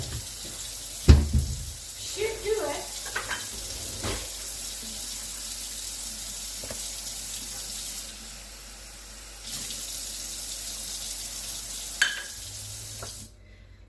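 A kitchen tap runs cold water into a measuring cup to bloom gelatin for a tres leches cheesecake; a steady, moderately faint stream with brief clinks and a short spoken remark, stopping near the end.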